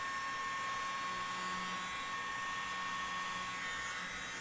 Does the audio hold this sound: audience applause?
no